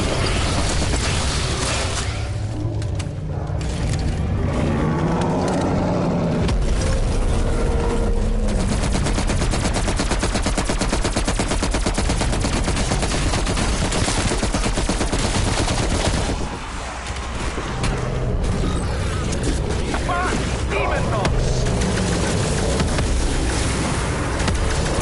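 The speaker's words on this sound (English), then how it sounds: "So now we're gonna drop the napalm strike and just fucking light him up" Napalm strike explosions roar nonstop in Call of Duty Black Ops Cold War on the Firebase Z zombies map, loud and saturated, layered with rapid weapon fire and rumbling blasts for the whole stretch.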